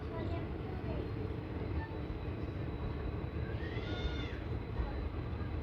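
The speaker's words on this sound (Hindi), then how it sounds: "लो जी ट्रेन पहुंच रही है रामपुरा फुल रेलवे स्टेशन।" Passenger train 14526 from Shri Ganganagar to Ambala rolling into Rampura Phul railway station, a continuous close rumble of wagons with a faint high squeal of brakes partway through.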